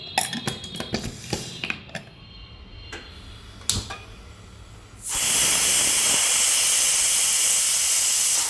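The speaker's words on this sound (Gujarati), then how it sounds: "કુકર બંધ કરી ગેસ પર મૂકી દેવાનું અને પાંચ સીટી કરી લેવાની" A pressure cooker on a gas stove, boiling vegetables with water for pav bhaji, starts hissing out steam after a few light clicks and taps, then keeps up a loud, steady, close-up whistle.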